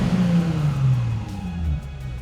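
Nissan 350Z running on E85 revs as the gas pedal is pressed, giving a loud, close engine note that rises and then falls and settles back toward idle.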